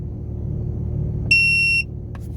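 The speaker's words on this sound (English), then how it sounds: "You just hold it down, it'll beep, and it'll turn off like this." A Tymate tire pressure monitor in a Porsche 996 Turbo gives a single sharp, high electronic beep lasting about half a second as it powers off, over a low steady engine-like rumble inside the car.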